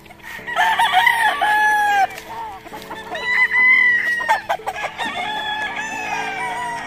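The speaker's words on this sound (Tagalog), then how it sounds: "Anak daw ng manok dito." Chickens cluck and crow loudly and close by in repeated overlapping calls, with a rooster's cock-a-doodle-doo standing out among the flock.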